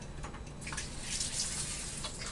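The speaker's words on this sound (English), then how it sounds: "get adding some more water to it until I'm satisfied" Water is poured into a cooking pot as a continuous, fairly faint, gurgling splash lasting a couple of seconds, with no talk.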